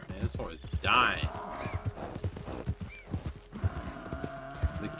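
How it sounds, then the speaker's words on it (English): Horse in a video game, heard as close hoof clip-clops with a brief neigh-like burst, running under frequent talk and game sounds. "Man, this horse is dying."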